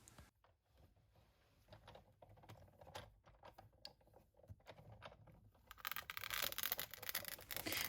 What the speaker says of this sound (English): the cracking sound is just the sound of the paper embossing.